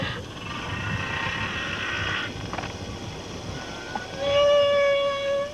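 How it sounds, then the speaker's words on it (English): Underwater hiss carries the long, wavering tones of a humpback whale's song, with a strong, clear moan swelling toward the end. "It's one single whale singing that song."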